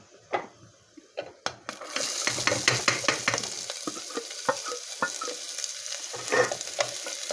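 Onion sautéing in a pan with bay leaf and star anise for a Tamil mutton kulambu, a steady sizzle broken by repeated sharp scrapes and stirs of a spoon, close and fairly loud, with no voices.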